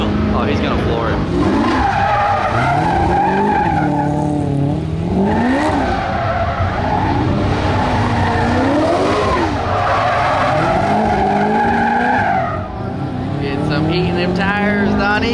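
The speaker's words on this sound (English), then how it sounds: "Oh, he's gonna floor it." At an LS Fest event a race car is floored at the start line, its engine roaring and rising in repeated revving sweeps while the tires skid and squeal. The sound is loud and continuous, with voices faintly underneath.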